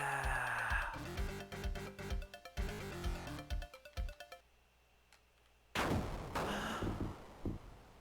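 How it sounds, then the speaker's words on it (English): Fireworks in the Mega Drive game John Madden Football '93: a run of sharp synthesized bangs and crackles in quick irregular bursts, then a brief quiet, then a further loud burst of pops. "They've even given us an ending this time. We get fireworks."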